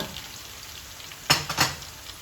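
Peppers sizzling in a pot on a stovetop are stirred, giving a soft frying hiss and two brief scraping bursts near the end, with no talking.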